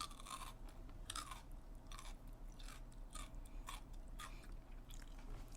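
Someone bites and chews raw potato, making a steady series of crisp, crunchy bites and chews repeated roughly every half second. The sound is close and moderately quiet over a low steady hum, with no speech.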